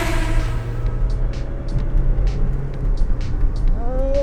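A Saab 9-3 accelerating hard on a test drive, heard from inside the cabin as a steady low engine drone with rising tones near the end, under faint intermittent clicks and road noise.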